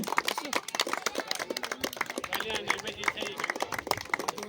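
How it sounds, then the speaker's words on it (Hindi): A crowd claps to welcome guests, including women of a kirtan group, at a village trophy event in Garhwal, with rapid uneven clapping mixed with people talking nearby. "एक बार जोरदार तालियों से इनका स्वागत"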